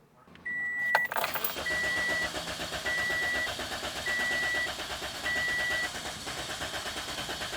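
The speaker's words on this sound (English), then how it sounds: "When it sits for a while, it cranks for a long time." A 2007 Toyota Corolla 1.8 engine cranks steadily without catching, a rhythmic starter churn lasting several seconds, with a repeating warning chime beeping over it at regular intervals.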